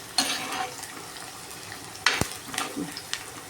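Onions and four green chillies fry in a cooking pot, giving a close, soft sizzle broken by a few sharp clatters of stirring against the pot.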